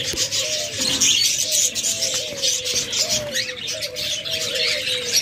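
Pet lovebirds in a bird shop chirp and chatter continuously, with overlapping shrill calls and repeated whistled notes close by. No one talks over them.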